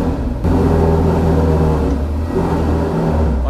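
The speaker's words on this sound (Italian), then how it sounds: "Fa sto rumore qua quando è fredda l'auto" A cold Ferrari engine runs loudly and close, a rough, rumbling idle with slight revving that holds steady throughout.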